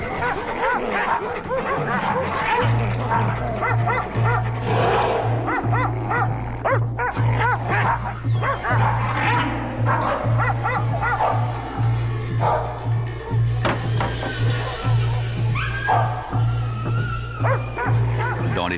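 Several dogs bark, yip and whimper in a rapid, overlapping clamor, close and loud, over a steady low droning pulse that repeats throughout.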